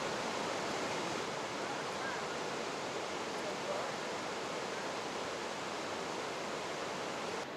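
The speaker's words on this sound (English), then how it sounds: "From the bridge, there's a great view of the cascade." A creek cascade pours beneath a bridge in Glacier National Park, a steady broad rushing roar of falling water, continuous and even from start to finish, with no voices.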